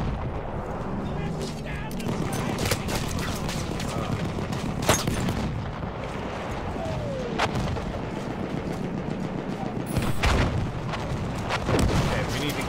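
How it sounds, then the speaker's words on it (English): Machine gun fire and explosions in Battlefield 1, a dense battlefield din of rapid bursts and heavy booms, loud and continuous with sharp louder cracks at intervals. "that guy got on the machine gun"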